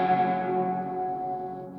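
A single guitar chord rings through a Walrus Audio R1 stereo reverb pedal with the swell set down, the wash fading smoothly over about two seconds with no talk.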